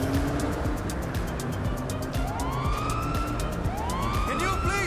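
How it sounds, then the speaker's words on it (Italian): Police sirens wail in GTA V during an aggressive casino heist, rising and falling over a steady din of game noise and engines, with a person talking over them. "Però le sirene si sentono"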